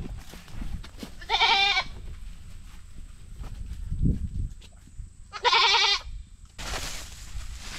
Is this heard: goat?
yes